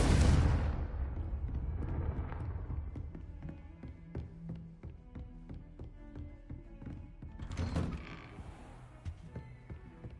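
Confringo blasting curse from Hogwarts Legacy, a loud explosive burst at the start fading into rumbling debris, with a second smaller blast near the end amid faint game sounds.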